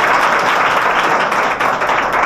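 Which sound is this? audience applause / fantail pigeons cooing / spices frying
audience applause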